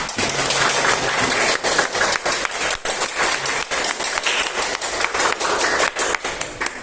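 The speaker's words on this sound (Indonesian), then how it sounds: "Oke, tepuk tangan untuk" Classroom audience clapping, a loud, close, continuous patter of hands with sharper individual claps punctuating the dense applause.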